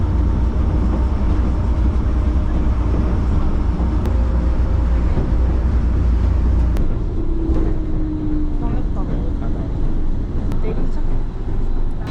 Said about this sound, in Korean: 이런 지하철은 처음입니다